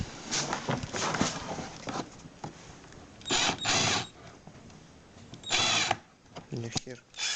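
A power drill unscrews a screw from a case during a repair job, sounding in several short whirring bursts with pauses, close and fairly loud, while people talk in between.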